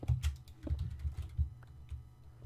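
Steady, fairly close typing on a computer keyboard during a game session, with quick uneven key presses and dull thumps from heavier strokes, with no talking.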